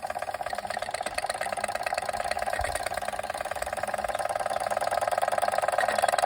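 A Machinator Steamfire model steam engine runs steadily, giving a continuous mechanical hum and fast rattling chuff at an even, moderate loudness with no voices.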